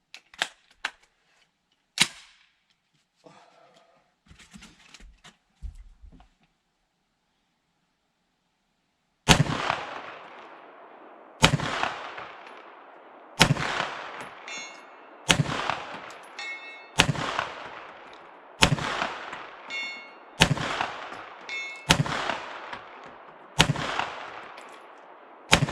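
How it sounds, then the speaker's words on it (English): A Foxtrot Mike FMP-9 9mm carbine fires at a steel plate 200 yards away: a few scattered sharp reports, then about nine loud, evenly spaced shots roughly two seconds apart, each ringing briefly, with no talking. "we'll take some shots at 200 with the Foxtrot Mike"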